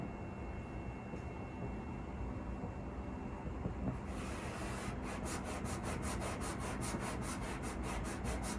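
Clay bar rubbed over car paint, a steady scratchy friction with a rhythmic back-and-forth pulse in the second half, close and fairly loud, with no talking.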